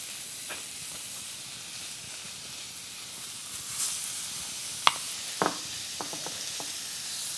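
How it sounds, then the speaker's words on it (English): Fresh sausages brown in a frying pan with a steady, soft sizzling hiss throughout, punctuated near the end by a few sharp clicks and clinks of utensils against the pan. "we're going to just brown them a little bit on each side"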